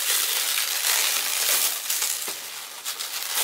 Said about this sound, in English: Now you just hold on somewhere and just unwrap it.